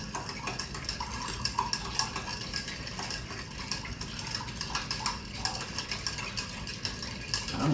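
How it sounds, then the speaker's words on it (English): A Manhattan cocktail stirred vigorously with a bar spoon, giving a fast, continuous rattle and clink of ice against the mixing glass, close up and moderately quiet, with no voices. "I'm gonna stir vigorously."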